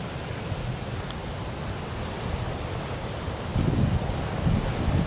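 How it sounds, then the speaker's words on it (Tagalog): Ocean waves wash ashore at Red Rocks Reserve in New Zealand, a continuous roaring surf mixed with gusting wind on the microphone, with a heavier surge swelling near the end; no one speaks. "Lumalakas yung alon."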